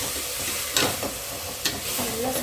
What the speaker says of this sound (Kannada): ಟೊಮೆಟೊನೂ ಹಾಕ್ಕೊಂಡು ಸ್ವಲ್ಪ ಚೆನ್ನಾಗಿ ಫ್ರೈ ಮಾಡ್ಕೊಬೇಕು